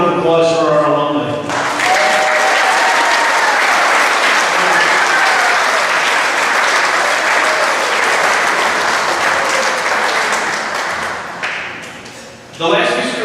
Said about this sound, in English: one more round of applause for our alumni.